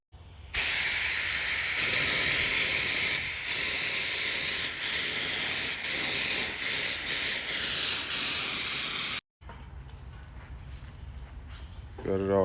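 Loud continuous hiss of a spray gun laying primer on a masked-up classic truck, running about nine seconds before cutting off, followed by quieter shop background.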